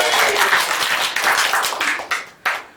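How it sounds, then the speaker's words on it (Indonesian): Audience applause and clapping at an Indonesian stand-up comedy show: a dense wash of many hands that stays fairly loud, then thins into a few quick closing bursts. "Tepuk tangan lu kan."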